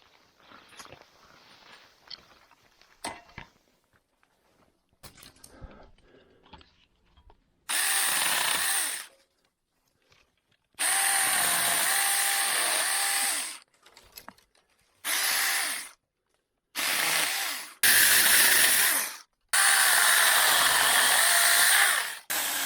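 A small Saker mini chainsaw cutting wood runs in several loud, high-pitched bursts of a few seconds each, with quiet pauses between them, after some faint handling noises.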